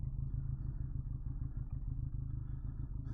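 A 2022 Benelli Leoncino 500 motorcycle idles steadily nearby, its low, even engine throb pulsing without revs for a few seconds.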